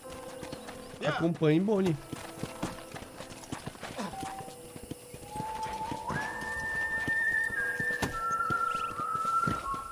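Horse hooves clopping in a backing-up maneuver in the video game Red Dead Redemption, with steady close footfalls under voices talking, game speech and a rising tonal music line near the end.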